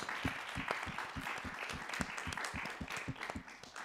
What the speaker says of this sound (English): Let's give each other another huge round of applause